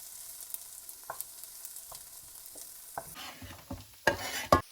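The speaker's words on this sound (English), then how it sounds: "I'm just frying up these little bits of garlic." Oil sizzles softly in a pan as garlic fries, with a few utensil clinks and stirring scrapes growing louder toward the end.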